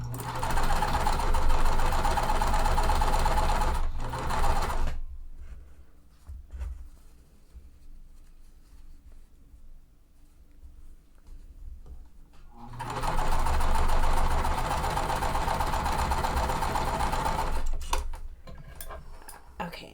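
Sewing machine stitching quilt block pieces for a small lemonade-themed quilt, running in steady bursts of about five seconds at the start and again near the end, with a quiet pause between them.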